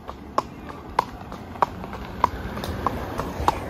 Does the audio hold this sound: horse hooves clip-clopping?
yes